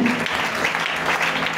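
A church congregation breaks into applause praising the Lord, a dense, sustained wash of clapping from many hands in a reverberant hall, steady for the whole stretch.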